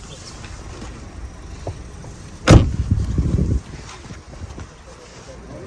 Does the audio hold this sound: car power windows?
yes